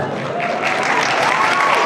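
Audience applause at a cosplay masquerade contest, a full hall clapping in a steady sustained wash that swells slightly, with a voice faintly beneath.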